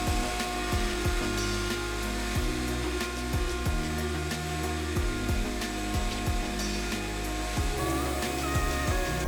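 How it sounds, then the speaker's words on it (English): A vacuum cleaner runs steadily inside a car while racing seats are being installed, its whine constant and close, broken by repeated knocks and clunks of the nozzle moving around the interior. "we got a vacuum in here,"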